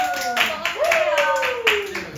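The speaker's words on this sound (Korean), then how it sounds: "박수 박수. 박수 박수." Students in a Korean high-school prep reading class clap their hands in a short burst of separate, fairly close claps, with a voice talking and a rising vocal tone over them.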